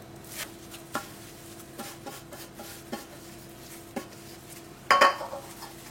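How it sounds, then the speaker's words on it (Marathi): Kitchen clatter as a semolina and coconut mixture is moved into a bowl and covered: several light scrapes and taps spaced about a second apart, then a louder clink of the cover near the end, no talking. "हांव ह्या सेम बोलान घालता आणि दवरता धांपून."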